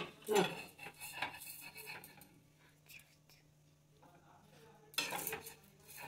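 Metal spatula scraping and tapping in a pan while cutting patishapta pancakes, with clustered clinks near the start and end amid quieter kitchen rustle and soft whispery voices.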